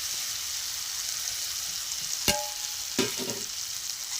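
Fried vegetables stirred with spices in a hot pan give a steady, close sizzle throughout, with two sharp clanks of a spoon against the pan near the end.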